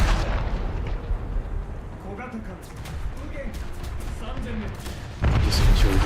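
Naval guns on a frigate fire at targets in a naval combat game, a steady run of deep booming reports and rumble with a heavier blast near the end, mixed under a voice.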